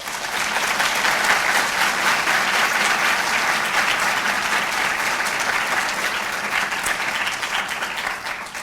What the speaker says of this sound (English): Could we give our coders a round of applause?